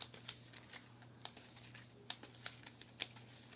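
A hand of cards being shuffled during a card game, with faint, quick riffling snaps and flicks in irregular bursts over a low steady hum.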